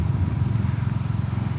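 A Royal Enfield Classic 350 motorcycle engine at low revs, a deep throbbing rumble close by with no talking.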